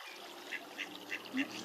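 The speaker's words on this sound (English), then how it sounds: "Ducks must be in front of the hide, I can hear them." Ducks quack near a bird hide on a loch, four or five short nasal calls at a moderate distance over a soft background hiss.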